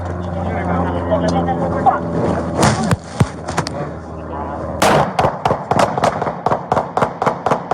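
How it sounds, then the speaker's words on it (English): Gunfire cracks out during a US police standoff with a suspect armed with a samurai sword and a rifle: a few sharp bangs, then a fast, regular volley of loud shots, over an engine-like rumble and people talking. "Shots fired. Shots fired."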